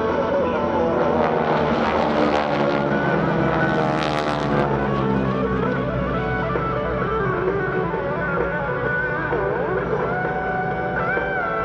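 GEICO Skytypers propeller airplanes flying in formation at the Rhode Island Air National Guard open house airshow, a steady, loud droning engine roar that swells slightly mid-clip, with an announcer talking over it throughout.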